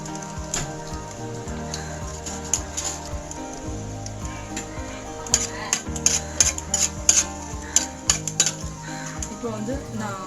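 Bay leaf, four cardamom pods and two cinnamon sticks dropped into hot oil in a pan for ghee rice, with a soft sizzle under clinking utensils and stirring against the pot.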